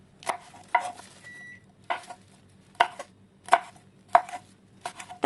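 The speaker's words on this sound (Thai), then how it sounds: "แล้วก็ต่อด้วยหั่นพริกชี้ฟ้าสีแดงค่ะ" Knife chopping red spur chilies on a cutting board while preparing Thai drunken noodles, a series of about eight sharp, close, evenly spaced cuts with short pauses between them.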